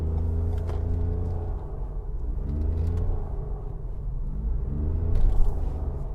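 Engine of a Toyota Yaris Cross Hybrid rumbling and rising in pitch as the gas pedal is gently pressed, a steady close droning hum with wavering tones that swells briefly near the end.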